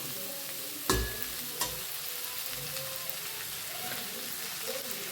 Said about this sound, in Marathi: बघा आता ह्याच्यात टाकूया गवारी